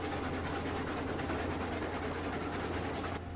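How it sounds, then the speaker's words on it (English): A Railroads Online train rolls along the tracks, a steady low rumble with rhythmic rattling and clatter, continuous and fairly close, with no one speaking. "A train and a caboose."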